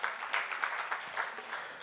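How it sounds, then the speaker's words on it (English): Brief burst of audience applause at an annual conference, a dense wash of clapping with slight surges, fairly soft and distant, no speech over it. "Clap for yourselves."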